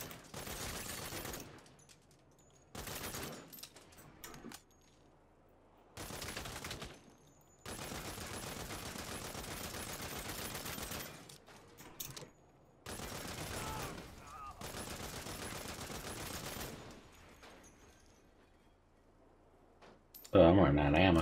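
Repeated bursts of automatic gunfire from the video game Saints Row, loud rapid volleys separated by short pauses, with game speech heard between them.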